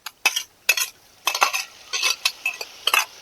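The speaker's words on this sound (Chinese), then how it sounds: "熬的时候一直不停的搅，不然它会容易焦" A utensil stirs raw chili sauce cooking in a pan in quick, repeated scraping bursts with brief pauses between strokes, loud and close, and no one speaks.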